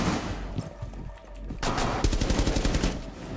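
Gunfire in the tactical shooter Rainbow Six Siege: loud scattered shots, then a rapid automatic burst of evenly spaced rounds, close and dominant throughout.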